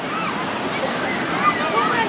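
Forceful water pouring down at a waterfall, a dense, steady broadband roar that stays loud and unbroken throughout.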